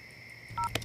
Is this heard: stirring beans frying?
no